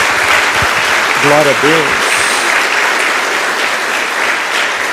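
A church congregation applauds for Jesus during a worship service, a steady wash of clapping throughout with a voice briefly speaking over it early on.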